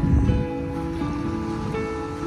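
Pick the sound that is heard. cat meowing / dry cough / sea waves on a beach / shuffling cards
sea waves on a beach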